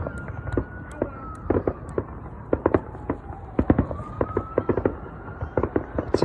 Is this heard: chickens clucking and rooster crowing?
no